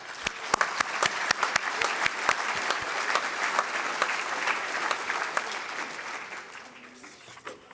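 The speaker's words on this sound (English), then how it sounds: "Let's have a big round of applause for the whole gang." An audience at a hall-of-fame induction ceremony breaks into loud, sustained applause, dense clapping that holds steady and then slowly tapers off near the end.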